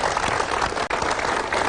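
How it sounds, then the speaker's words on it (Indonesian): An audience applauding a poem: steady, dense clapping from many hands, close and continuous, with one brief dip in the middle. "Tepuk tangan untuk puisi yang luar biasa."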